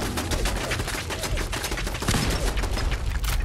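Enemy gunfire in Fallout 4, rapid continuous bursts of automatic shots with sharp repeated cracks, loud and close, filling the whole stretch without speech.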